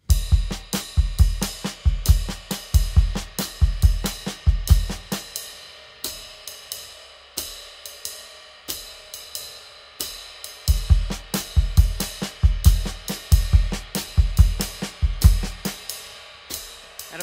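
A drum kit plays paradiddles over a jazz cymbal pattern, with sections of busy snare and kick strokes alternating with sparser cymbal-led bars, steady and close with no talking.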